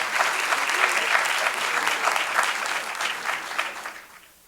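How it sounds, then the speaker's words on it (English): A crowd at a school board meeting claps steadily for a few seconds, a dense patter of applause that fades out at the end. "let's give them another round of applause for helping our students reach their potential."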